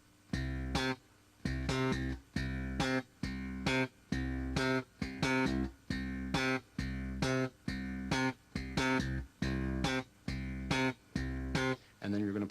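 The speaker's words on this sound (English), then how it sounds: "You have two long tones going into a short tone." A slap bass octave exercise with a steady repeating pattern of two long tones followed by a short tone, punchy and close, played alone.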